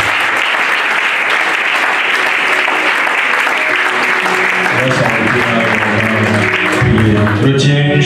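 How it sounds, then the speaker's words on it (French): A church congregation applauds loudly and continuously, crowd clapping filling the space, with voices and music rising near the end. "Je veux que tu acclames le Seigneur."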